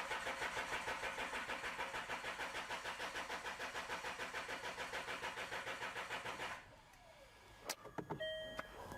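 Car engine cranking repeatedly without catching in a workshop, a fast rhythmic starter churn lasting several seconds before cutting out, followed by a few faint clicks and tones.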